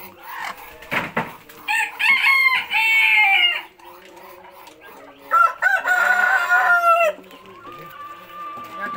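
Two long rooster crows ring out close by, separated by a pause, with a short thump and faint clucking around them.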